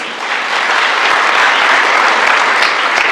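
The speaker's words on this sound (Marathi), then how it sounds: "तर तुमच्या सगळ्यांना जे डोनर आहेत त्यांच्यासाठी एकदा टाळ्या वाजवून" Loud, dense applause from a large seated audience honoring organ donors, many hands clapping continuously and close, swelling slightly and holding steady throughout.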